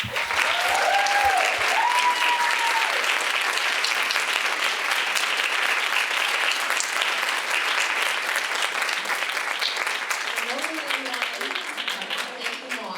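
An audience at a Williams women's leadership keynote applauds steadily to welcome the speaker. Dense, sustained clapping fills the whole stretch and fades slightly at the end, with a few voices briefly rising over it.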